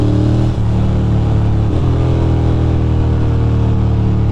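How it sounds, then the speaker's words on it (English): Ducati motorcycle engine droning steadily and loudly at close range on a city street near the Brooklyn Bridge, with a brief dip around a downshift, harmonic engine tones continuous throughout. "this biker passes a Honda rider and downshifts right next to him just to prove his dominance"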